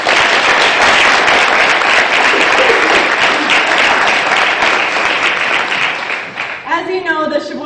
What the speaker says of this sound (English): maybe we can give them a little bit of a round of applause right away